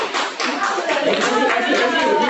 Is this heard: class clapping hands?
yes